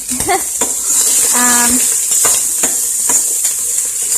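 Onions and celery sizzling in a pan for red Thai curry, a bright constant frying hiss with a few clinks of a utensil and a brief tonal squeak partway through.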